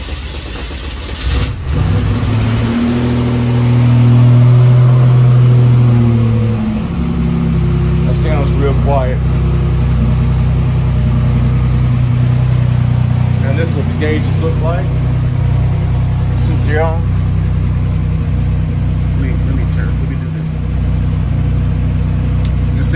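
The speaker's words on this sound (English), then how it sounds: "And we'll start this car up." A Buick Grand National engine starts inside a garage at night and settles into a steady, loud mid-pitched idle that runs throughout, with a brief louder surge near the start and occasional talk over it.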